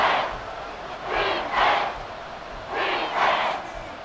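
A stadium crowd in the American football video game Madden NFL 24 roars steadily, with four rising swells of cheering and shouting over a constant dense murmur, no commentary heard.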